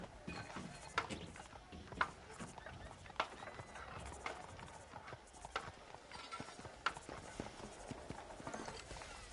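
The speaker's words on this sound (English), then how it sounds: "Do you see those horses to the left by the building across the street?" Horses clip-clop along a town street in Red Dead Redemption, a steady run of sharp hoof strikes at moderate distance over a low ambient background.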